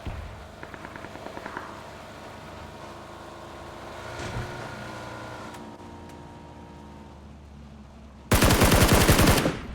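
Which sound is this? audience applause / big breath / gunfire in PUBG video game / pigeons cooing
gunfire in PUBG video game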